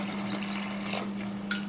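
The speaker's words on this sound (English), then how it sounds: "I think I'm gonna add some water" Water running from a tap into a pot for a vegan stew, a steady continuous pour that splashes a little louder near the end, alongside a low constant hum.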